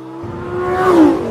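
A 2013 Lamborghini Gallardo LP550-2, the rear-wheel-drive version, revs its engine up close. The pitch climbs steadily to a loud peak after about a second and then eases off, with no one speaking.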